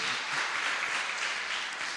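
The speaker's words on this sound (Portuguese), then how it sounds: "vamos aplaudir a Jesus pela vida deles" A church congregation at a Portuguese-language worship service claps together, a brief, continuous wash of crowd applause heard at a slight distance.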